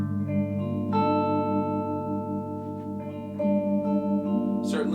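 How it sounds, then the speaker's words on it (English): Electric guitar played through a DOD Gonculator ring modulator pedal on a musical setting, sustained chords ringing with metallic, inharmonic overtones, a couple of new strums re-attacking the wash, loud and alone. "Second stack, I thought let's go full weird and bring up a ring modulator. So this is the Gonculator from DOD."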